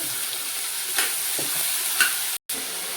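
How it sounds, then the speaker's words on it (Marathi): Chopped onion, frozen peas and salt sizzle steadily in a pan for a vegetable Kolhapuri bhaji, with a couple of soft stirring scrapes and a brief sudden cutout near the end. "कांदा टाकून घेते, फ्रोझन मटर टाकते, मीठ टाकून घेते"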